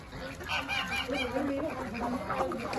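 Ducks and chickens at a play farm keep up a dense, close chorus of honking quacks and clucks, steady and continuous without clear speech.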